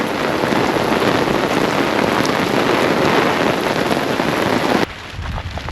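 Heavy monsoon rain pours at Malampuzha dam in Kerala, a loud, dense, steady hiss of drops close by that eases abruptly near the end.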